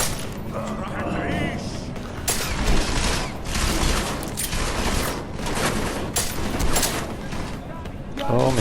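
Gunshots in Deus Ex: Mankind Divided, a steady clatter of shots and mechanical clicks over a dense game soundscape. A voice talks underneath.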